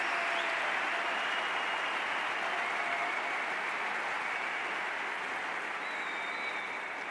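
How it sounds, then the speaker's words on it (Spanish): Sustained applause from a conference audience at an economic forum, a thick even wash of clapping that holds steady and loud for several seconds with faint cheering tones beneath. "Fuerte aplauso."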